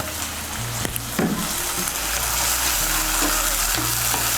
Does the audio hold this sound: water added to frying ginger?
yes